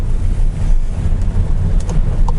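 Volkswagen Arteon R-Line 4Motion sedan driving over a rain-soaked road with standing water, a loud, constant low rumble of tyres and engine with splashing hiss, heard from inside the car.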